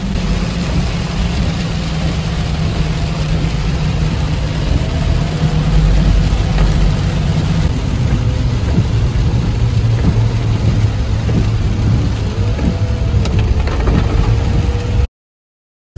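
A car drives home slowly through heavy rain, a loud constant engine rumble mixed with dense rain and road roar over the whole stretch before it cuts off abruptly.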